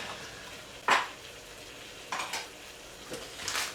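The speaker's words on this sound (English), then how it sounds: "Give this a stir." Rice, Uncle Ben's, being stirred in a pot over a camp stove at a motorcycle campsite, a few short scraping and sizzling strokes of a utensil against the pot, spaced apart over a quiet background.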